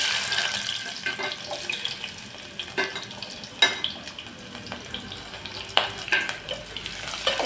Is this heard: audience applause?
no